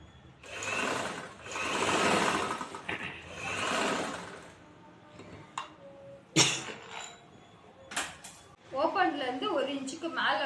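A sewing machine stitches chudithar fabric in three humming bursts, followed by scattered clicks and handling noises. Someone speaks near the end.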